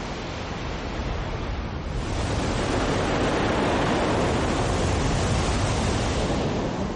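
Waves of a vast global ocean roar as a dense, steady wash of surf that swells slightly louder after the first two seconds and carries on without a break.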